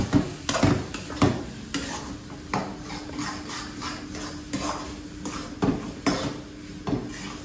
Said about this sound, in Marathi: हलवून घ्या पटापट, म्हणजे मग त्याचे गुठळी होणार नाही.